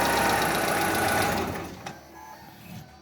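A car engine with a faulty camshaft position sensor runs with a loud, steady idle, then is switched off and dies away within about a second. A few faint clicks follow, and nobody speaks.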